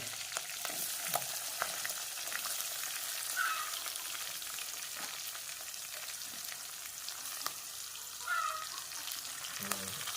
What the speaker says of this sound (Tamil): இப்போ நல்லா வதங்கி கிண்டணும்